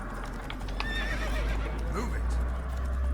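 Horse galloping and neighing during a horse race in The Witcher 3, with rhythmic hoofbeats, a sharp whinny and low rumbling, mixed with game voices.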